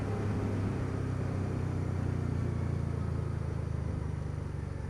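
A motorcycle downshifting without using the clutch, its engine droning steadily and loud at close range with a dense low rumble that holds without breaks.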